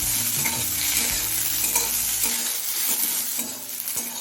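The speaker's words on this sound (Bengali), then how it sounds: "এবার আলু আর পেঁয়াজটা একসাথে আরও কিছুক্ষণ ভেজে নেব" Diced potatoes and a large chopped onion frying together in a pan with oil for a pui metuli dish, giving a steady close sizzle with occasional stirring scrapes throughout.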